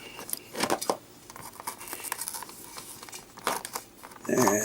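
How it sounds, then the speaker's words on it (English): A knife cutting a toy dart blaster free from its plastic and cardboard packaging, close, quiet bursts of crinkling, snipping and tearing in short irregular strokes. "Get my knife out and we'll cut this one."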